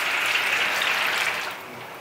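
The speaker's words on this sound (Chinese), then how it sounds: "油温五成热，下锅炸豆腐。" Small cubes of tofu deep-fry in moderately hot oil, a dense, close, steady hiss that eases slightly toward the end.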